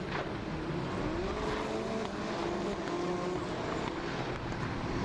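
Eurocup-3 single-seater race cars on the formation lap at Estoril, a steady broad engine roar with tonal whine sweeping slightly, continuous and moderately distant throughout.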